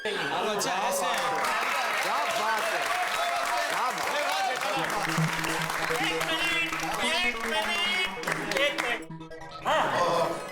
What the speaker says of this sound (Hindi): देखिए, आपकी तालियों का असली हकदार मैं नहीं बल्कि दया है।